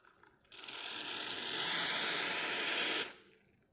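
A hot water tap on a Profitec Pro espresso machine, freshly serviced, opens with a sharp hiss that swells into a loud, steady rushing spray, then cuts off after a few seconds.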